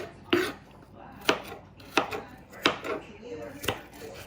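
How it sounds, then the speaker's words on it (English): Knife chopping onions on a cutting board, six sharp, distinct chops spaced about every half second to second, close and clear with no talk. "you don't have to fine chop these onions, just get them down to whatever suits your fancy"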